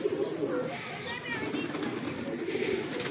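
Pigeons in a loft give low, repeated coos that come and go under a person talking nearby.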